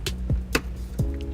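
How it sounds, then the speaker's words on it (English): A plastic trim tool prying carpet fasteners out of the body of a 2007 Toyota RAV4, a few sharp pops and clunks close by. "I'll take our trim tool, just pull apart on them. It'll come right out of the body"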